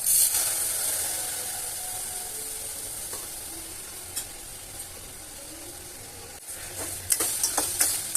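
Sugar melts in a hot pan for a sweet mango dish, sizzling and hissing steadily up close while being stirred, with a few louder scrapes and clinks near the end.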